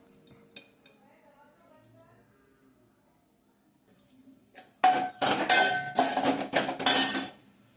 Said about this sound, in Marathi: थोडं तुपामध्ये आपण काजू बदाम मनुके भाजून घेऊया.